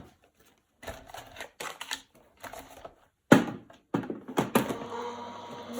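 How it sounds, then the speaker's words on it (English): A Gemini die-cutting machine clunks and whirs in short mechanical bursts as card is fed through, with pauses between, then louder grinding toward the end, fairly close. "Run that through the Gemini."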